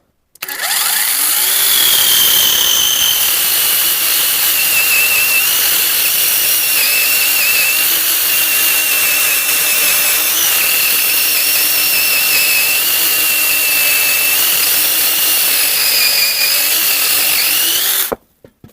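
Cordless battery chainsaw, model L216, powered by two 6-amp-hour batteries in a backpack, running at high speed with a steady loud whine that holds nearly unbroken for about sixteen seconds before cutting off abruptly.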